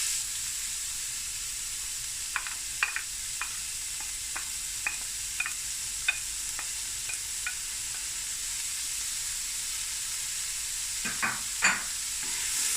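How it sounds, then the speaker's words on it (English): Two large chopped onions frying on medium heat in a curry pan, a steady soft sizzle broken by a series of sharp spoon scrapes and clicks as they are stirred, growing busier toward the end. "allow this to just fry for about 10 minutes, stir it occasionally"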